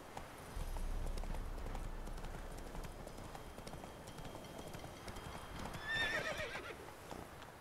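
Roach the horse galloping in The Witcher 3 video game, a steady, close run of hoof clip-clops that goes on throughout, with a whinny near the end.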